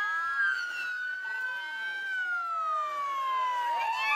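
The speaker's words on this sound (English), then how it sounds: "Hey, shut my siren off." A police car siren wails continuously at close range, its pitch sweeping up and down in long glides during a police chase. A second siren echoes faintly underneath.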